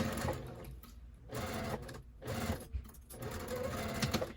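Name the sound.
sewing machine sewing fabric bin box corners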